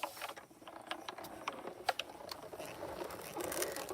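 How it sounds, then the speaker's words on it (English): A hot foil plate runs through a die cutting machine with paper, giving a quiet mechanical patter of clicks and ratcheting rollers, close by and steady for a few seconds. "Oh, I could hear it ripping my paper."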